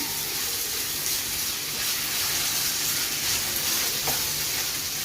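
White sauce poured into a hot pan of spiced chicken filling for chicken bread, with a continuous close sizzle and soft stirring scrapes that hold steady and fairly loud throughout.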